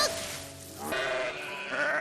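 Pet sheep bleating in a farmyard, a couple of wavering, nasal calls close by with a brief pause between them, layered over a soft background bed of sound.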